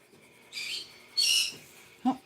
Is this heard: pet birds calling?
yes